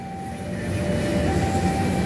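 A long train rumbles across a road crossing at a steady, fairly loud level, with a sustained tonal whine riding over the low rolling noise throughout.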